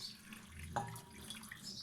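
Water is poured into a glass to soak tamarind, a soft short splash at close range over quiet room background.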